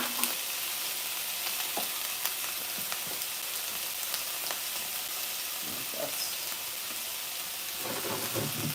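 Washed shrimp fry in a salted pan, giving a dense, even crackling hiss that holds steady and fairly soft throughout, with a few faint clinks.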